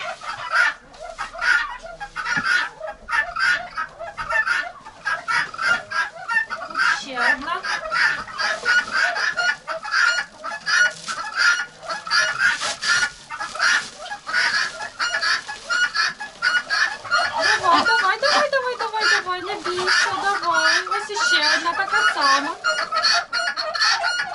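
Red Muscovy ducks and other poultry in a farmyard, with dense continuous clucking and crowing-like calls throughout, birds close and loud, a few overlapping voices rising and falling without pause.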